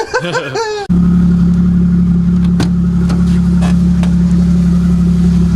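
A widebody Toyota Supra with a boosted engine, heard from inside the car as it drives off. Brief speech comes first, then a loud, sustained engine drone holds steady with occasional clicks.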